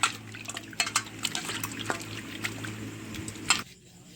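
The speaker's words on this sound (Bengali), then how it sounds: "চরকাঁদা মাছ গরম জল করে ধুয়ে নেওয়া হচ্ছে।" Small chorkonda fish being washed in hot water, with running water, splashes and scattered drips close up, fairly quiet overall before the water stops abruptly.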